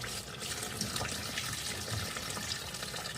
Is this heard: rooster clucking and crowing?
no